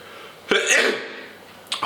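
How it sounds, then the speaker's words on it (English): A single sharp sneeze bursts out close to the microphone, followed by a short breathy trailing sound and a brief sniff or breath at the end. "Oh, I'm gonna sneeze."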